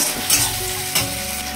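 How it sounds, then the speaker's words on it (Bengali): Onion and tomato frying in a pan for chicken curry, a loud, continuous sizzle with stirring scrapes close by, no voices. "পেঁয়াজটা লাল লাল করে ভাজা হয়ে গেছে, টমেটোটাও মোটামুটি ভাজা হয়ে গেছে।"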